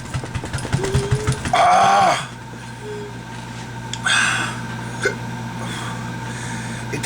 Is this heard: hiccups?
yes